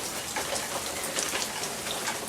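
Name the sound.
rain blowing onto a porch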